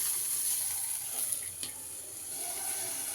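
Stuffed chillies (menasinakayi) fry in a pan with a steady, bright hiss of sizzling oil and a few faint pops, close and continuous with no talking.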